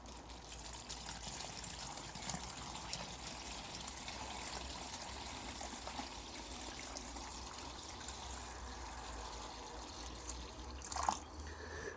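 Water poured onto tomato plants in an organic vegetable garden, a steady soft trickling and gushing as it soaks into the soil, continuous and close for the whole stretch with a brief louder splash near the end.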